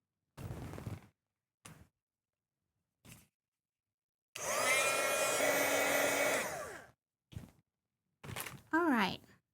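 A hair dryer blows on handmade Easter craft decor for about two and a half seconds, a steady loud whoosh between short bursts of quiet talking and handling noises.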